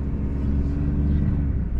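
Large truck engine idling and rumbling low while making a three-point turn on a residential street, a steady close drone with no talking.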